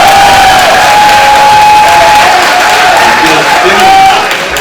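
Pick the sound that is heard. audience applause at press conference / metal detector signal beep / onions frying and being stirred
audience applause at press conference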